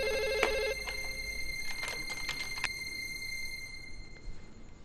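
An electronic telephone rings with a repeating trill and some tonal beeps over a faint background hum.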